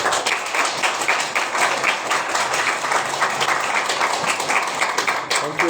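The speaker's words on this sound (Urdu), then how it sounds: "سب لوگ خوش ہیں؟ زوردار تالی بجائیے۔" A church congregation at a Sunday service claps loudly and steadily, dense continuous applause filling the room with no speech over it.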